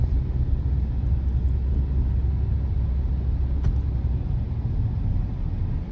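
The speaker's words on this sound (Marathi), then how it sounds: "माझ्यासोबत डॉक्टर ओंकार आहे, गाडी चालवून राहिले." A car drives along the winding Karalgaon ghat road near Yavatmal, a steady engine and road rumble from inside the vehicle, continuous and fairly loud.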